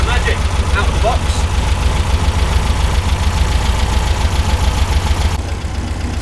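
A VW Beetle engine idles steadily on a new, unadjusted carburettor fitted straight from the box, with a loud, even rhythmic chug and light knocking pulses throughout.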